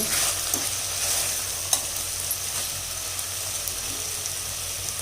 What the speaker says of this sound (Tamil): இப்போ பாருங்கள், சுரக்காய் நல்லா வதங்கிடுச்சு. எண்ணெய் பிரிஞ்சு வர ஆரம்பிச்சிருச்சு.